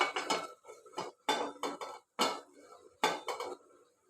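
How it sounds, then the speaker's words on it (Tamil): Metal pot lid and pan clatter while eggplant curry simmers in a home kitchen: a series of close clanks and scrapes in short bursts, with no talking. "கொஞ்சம் கத்திரிக்காய் வந்ததும் வேகிற வரையும் நம்ம வந்து மூடி போட்டுடலாம்"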